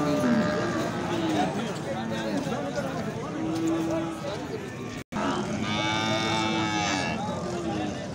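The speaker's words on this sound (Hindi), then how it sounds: "साथ भैंस भी खड़ी है।" Buffalo and cattle mooing at a livestock market in Talagang, repeated low moos rising over a constant background of crowd chatter and nearby voices.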